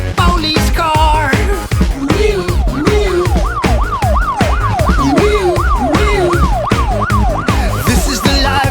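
A police car siren wails in a rising-and-falling cycle, repeating rapidly over bouncy music and beats in a children's song.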